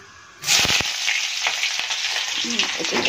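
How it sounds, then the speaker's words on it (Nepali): Onions and panch phoron drop into hot oil in a wok, a sudden loud hiss that settles into a steady, dense sizzle with a few scraping knocks from stirring at the start, no talking. "तेल खरियो। अब म यसमा पाँचफोरन हाल्छु। अब प्याज हाल्छु म।"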